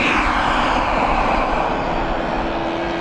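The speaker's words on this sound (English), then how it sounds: "Turbine's taking off, Steve." A turbine-powered model aircraft taking off at a flying field, a loud, steady, broadband jet roar with a thin high whine, close and constant throughout.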